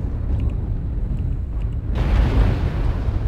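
An airstrike lands in the MechWarrior Online video game, a sudden broad blast midway that gives way to a heavy, sustained rumbling roar.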